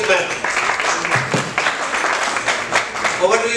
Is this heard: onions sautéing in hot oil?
no